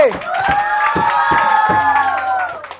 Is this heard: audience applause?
yes